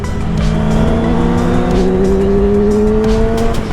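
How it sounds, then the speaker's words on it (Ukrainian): Motorcycles arriving at a McDonald's in Vyshhorod: a steady engine drone with a rising whine runs loud and close throughout, with no talk over it. "мотоциклисты приезжают"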